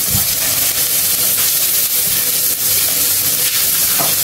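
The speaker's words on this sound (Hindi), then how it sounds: "गोभी हमारी बिल्कुल फ्राई हो चुकी है" Cauliflower fries in a pan, giving a loud, continuous hiss and sizzle with faint crackles throughout.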